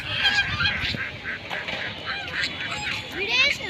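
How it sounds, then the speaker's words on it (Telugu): Ducks at a lake pond honk and quack in repeated nasal calls, several birds calling close by in irregular bursts, with a person talking over them. "ఇదిగో బాతులు ఇవి"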